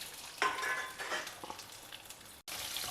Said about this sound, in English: now we will add the remaining sambar onions or shallots to this